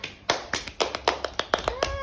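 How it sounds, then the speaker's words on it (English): Hands clap close by in a quick, slightly uneven run of about a dozen sharp claps, with a voice briefly audible alongside. "give her a clap"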